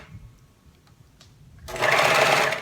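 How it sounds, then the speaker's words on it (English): A sewing machine stitches elastic onto a dress neckline. After a quiet stretch with faint handling clicks, it starts abruptly and runs steadily and fairly loud for about a second. "So I'm approaching the end of the elastic here"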